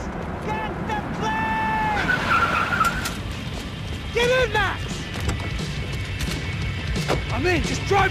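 A car in the video game Max Payne 3 drives hard and skids, giving tire squeals and engine noise under loud in-game action with shouted voices, metallic bangs and squealing tones throughout.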